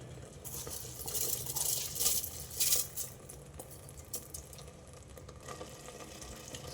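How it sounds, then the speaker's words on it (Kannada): Washed rice is stirred into a pot of boiling water for spinach rice, giving faint, close scraping and clinking against the pot over a steady low bubbling, with no voices. "ನಾವಿವಾಗ ರೈಸು ಆ್ಯಡ್ ಮಾಡೋಣ"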